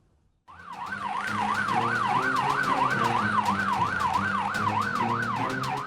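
Ambulance siren wailing in a steady, rapid up-and-down sweep, loud and close, with a low vehicle engine rumble underneath and no talking.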